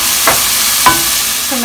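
Garlic and onion fry in a pan, giving a steady hissing sizzle broken by two quick scraping stirs of a utensil.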